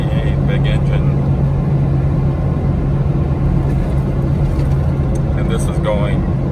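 A Ford F450 pickup with a 7.3 V8 engine running on CNG cruises at highway speed, its steady low engine and road drone heard from inside the cab beneath someone talking.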